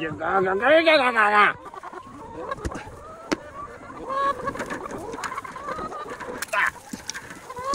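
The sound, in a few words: broody hen clucking in nest box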